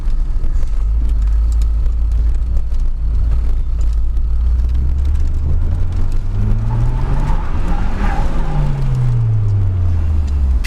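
A car spins on wrapped tyres, a loud steady engine drone that climbs and swoops in pitch as it rotates, with tyre noise underneath, heard close and continuous.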